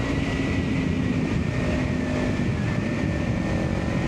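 Kawasaki Ninja 500 motorcycle with an upgraded aftermarket exhaust, a steady loud engine drone with low rumble and a faint whine, running continuously without pauses.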